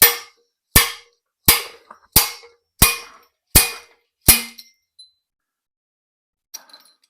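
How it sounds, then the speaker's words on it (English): A hammer drives a rusty axle bearing and seal out of the axle tube of a modified Ford 8.8 rear end: seven sharp, ringing metallic blows at an even, steady pace, close and loud, followed by a few faint clinks and quiet. "I'll just hammer them both out together. Let the bearing pull the seal out."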